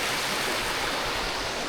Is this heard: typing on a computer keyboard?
no